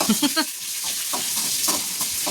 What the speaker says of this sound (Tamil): அப்புறம் தாளிக்கணும்